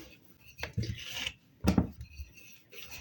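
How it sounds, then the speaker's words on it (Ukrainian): Lard shortbread dough is rolled out on a floured surface, giving soft, close rubbing and rolling strokes in a few uneven bursts with a light wooden knock, and no talking. "розкачую десь товщиною в пів сантиметра тісто"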